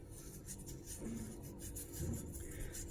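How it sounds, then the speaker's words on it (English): Two fingers rub cleaning paste back and forth across a small metal badge dug up while metal detecting, producing a faint, steady soft scrubbing with a couple of slightly louder strokes and no talking. "I just take my 2 fingers and I start rubbing."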